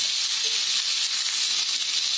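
Onions sautéing in plenty of oil in a pan for Tamil onion chutney give a steady, close sizzle with an even hiss throughout and no talking.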